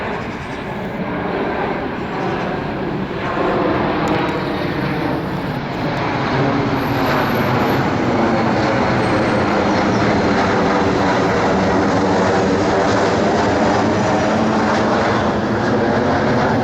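A KLM-operated Embraer E190 jet at an airport produces a loud, steady broadband engine roar that holds throughout, with no talk over it.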